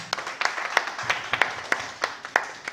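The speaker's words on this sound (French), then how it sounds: "Je vous demande de l'applaudir une fois de plus" Applause from a conference audience at a talk on peace, steady scattered clapping with regular sharp hand strikes at moderate distance, fairly thin and sustained throughout.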